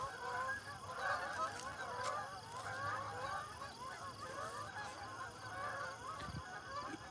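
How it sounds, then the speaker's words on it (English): A large flock of geese honks overhead outdoors in a dense, continuous chorus of overlapping calls that sounds moderately distant. "Big, that's a lot of birds."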